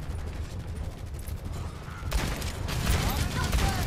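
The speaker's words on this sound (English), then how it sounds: "I just heard a gunshot over my head." Gunfire in the competitive Overwatch match on the Nepal map, a dense burst of rapid shots that thickens and grows louder halfway through, with continuous loud shooting filling the rest.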